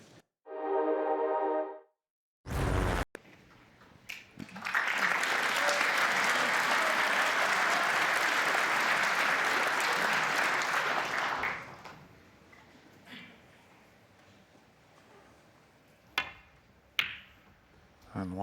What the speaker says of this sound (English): And once again, a nice round of applause before the player breaks off.